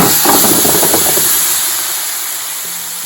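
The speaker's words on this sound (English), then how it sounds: "That sizzle is what's gonna crisp up your potatoes." Loud, steady sizzling hiss close up as potatoes fry in a hot pan with cooking spray, a brief crackle at the start settling into a constant frying sound.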